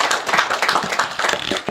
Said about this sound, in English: Please, let's put our hands together for him,